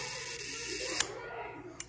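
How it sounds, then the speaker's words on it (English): A camera shutter is released for a one-second exposure, giving a faint click at about one second and another soft click as it closes, against a quiet background hum. "I will release the shutter."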